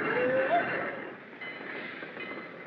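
A train rolls past at a station, a steady rumbling rush with a brief high wheel squeal near the start, then a fainter continuing roar.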